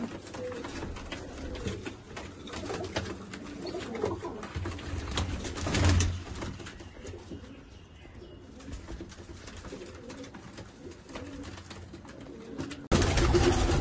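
Fancy pigeons kept at a home loft coo in a constant low throbbing chorus, fairly near, with brief louder swells and a few faint chirps, no talking.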